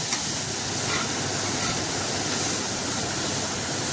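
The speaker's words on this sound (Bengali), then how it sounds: "পেঁয়াজ দিয়ে আরেকটু লবণ দেব, দিয়ে মিডিয়াম আঁচে সবগুলো সুন্দর করে হালকা করে ভেজে নেব।" Onions with salt frying over medium heat in a pan for egg and vegetable chow mein, giving a steady, loud broadband sizzle that runs unbroken and alone for the whole stretch.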